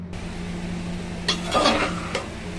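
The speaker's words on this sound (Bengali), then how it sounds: "এবার ঢাকনা বন্ধ করে" A pressure cooker holding watermelon rind with a little water and salt has its metal lid set on and closed in a home kitchen. Several clanking, scraping knocks sound close up over a low steady hum.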